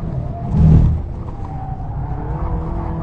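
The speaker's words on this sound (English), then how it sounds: "The DSG box gives you some nice quick shifts" SEAT Leon Cupra, a front-wheel-drive hatch with just under 280 horsepower and a DSG gearbox, driven hard on a track, its engine note swelling briefly and then holding a steady drone with quick gear changes.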